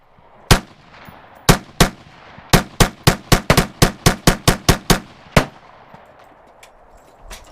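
Rifle chambered in 5.56 fired at an outdoor shooting range: sharp, loud reports, two single shots, then a rapid run of about a dozen evenly spaced shots, and one final shot, each with a short ringing decay.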